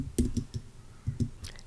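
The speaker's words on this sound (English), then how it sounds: "I'm going to type equals" Keystrokes on a computer keyboard while entering an Excel formula: a handful of close, distinct taps in irregular bursts, fairly quiet, with no talking.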